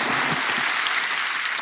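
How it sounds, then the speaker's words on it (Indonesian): A church congregation applauds for God during a sermon, a steady wash of many hands clapping throughout, fairly close and even in level with no talk over it. "berikan tepuk tangan kita untuk Tuhan kita."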